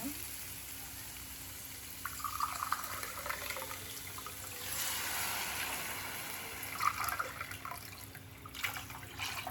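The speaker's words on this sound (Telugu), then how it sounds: "ఇప్పుడు వాటర్ యాడ్ చేసుకుందాం." Water pours into a hot pan with a rising hiss and gurgle, settling into a quieter simmer; faint background noise throughout.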